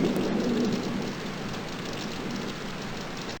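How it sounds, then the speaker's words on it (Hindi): Heavy rain falling at night in a village, a dense steady hiss of rain on surfaces, close and constant with no voices. "एक रात रामपुर में बहुत तेज बारिश हो रही थी।"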